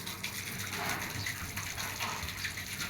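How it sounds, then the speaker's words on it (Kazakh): Steady gushing water pours continuously, a dense splashing flow filling a livestock trough, with no voices. "Су ақып бұл. Толып тұрады бұны."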